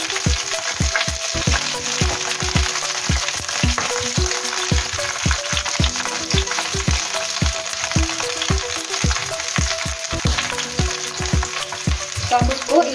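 Korean pancake batter frying in hot oil in a pan, a loud steady sizzle with regular sharp crackles and pops throughout, close and continuous with no talking.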